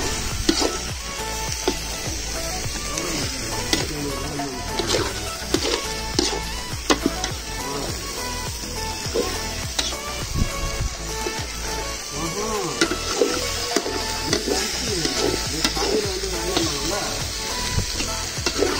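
Goat lungs sauté in a pan over a village cooking fire. Dense, steady sizzling and frying run throughout, broken by repeated scraping and stirring strokes close by.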